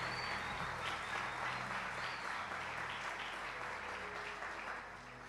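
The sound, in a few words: applause for the pastor's wife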